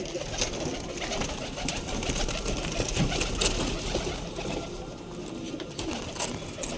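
Pigeons coo softly in a loft amid a busy background of rustling and chatter-like noise, their low calls faint and steady throughout.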